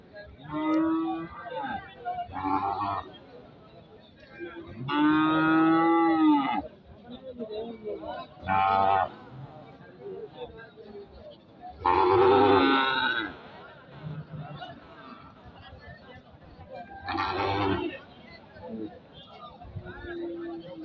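Cattle lowing at the Jamalpur cattle market in Gazipur, several long drawn-out moos rising above a busy crowd murmur, fairly close, with people talking throughout.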